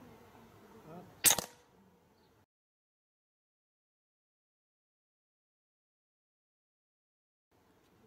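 A single sharp, close crack of a Huben K1 regulated air rifle firing a pellet at about 940 FPS, with brief talk before it and then near silence.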